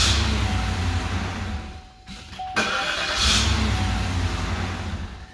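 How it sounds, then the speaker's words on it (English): A car engine with a newly installed Northstar starter cranks and catches, then runs at a steady idle nearby. A brief dip in the middle leads into a second start and a slight rev. "I want to start this a couple of times just to make sure we're all good."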